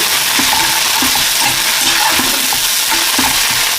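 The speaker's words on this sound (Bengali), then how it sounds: "বেশ ভালো করে কষিয়ে নিচ্ছি" A thick spice paste sizzles and sputters loudly in a hot pan, with steady frying hiss and a spatula scraping and stirring throughout.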